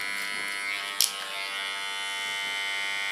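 Electric hair clippers run steadily with a comb guiding them through the hair of a platinum blonde pixie cut, a constant close buzz with one brief louder bump near the start and no talking.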